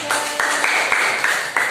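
A class applauds a winning student group with short bursts of clapping under loud cheering and chatter from the students.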